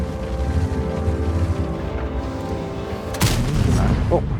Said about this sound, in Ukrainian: Оце був реально зірковий постріл.